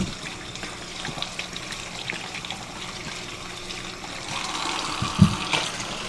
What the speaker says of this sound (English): while this is filling up with water